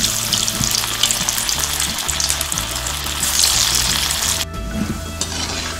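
Banana flower kola balls fry in hot oil with a loud, steady crackling sizzle, joined by a low hum and a brief pause where the sound drops before the bubbling resumes.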